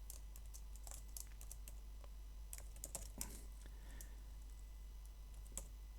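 Quiet, rapid keyboard typing with scattered clicks from a computer spreadsheet session, soft and close over a steady low hum.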